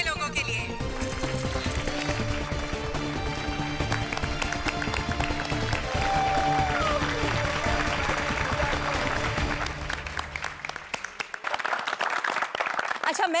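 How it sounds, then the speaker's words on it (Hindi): Loud, sustained clapping from a crowd honouring the Gokuldham Society residents, dense and continuous for several seconds, with music and voices layered over it before it thins out near the end. "एक बार जोरदार तालियां हो जाए गोकुलधाम सोसाइटी के लोगों के लिए"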